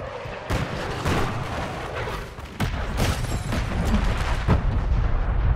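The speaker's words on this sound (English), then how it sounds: "Cluster mine deployed." Cluster mine detonations in Call of Duty MWIII, a series of heavy booming blasts and rumbling impacts arriving in quick succession, loud and close, with no talk over them.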